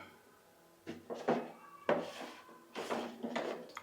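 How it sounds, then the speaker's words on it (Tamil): A plastic lid snaps onto an RO water filter housing as it is closed, giving several close, clunky knocks and scrapes that come in two bursts with short gaps between them. "அதை அப்படி சென்டராக பார்த்து அப்படியே உள்ளே வச்சு நல்லா ஒரு ப்ரெஸ் கொடுத்துட்டு அதுக்கப்புறம் மூடியை மூடிட வேண்டியதான்"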